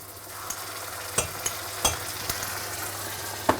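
Peri peri prawn masala frying in a pan, a steady close sizzle with a few sharp clicks and pops as it is stirred, no voices.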